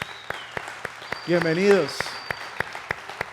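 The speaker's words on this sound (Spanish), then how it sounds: "Démosle un fuerte aplauso a esta familia." A church congregation applauding to welcome a family, heard as a run of evenly spaced sharp claps, with a voice calling out briefly over them.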